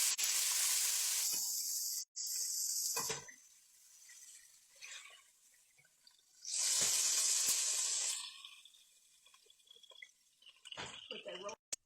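Vegetables hit hot oil in a skillet after a roast has been browned, giving a loud hissing sizzle that dies down, then a second strong burst of frying sizzle with soft stirring and clatter between.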